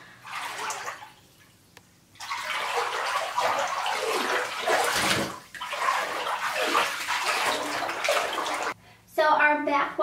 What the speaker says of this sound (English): So I'm going to fill up my tub a little bit more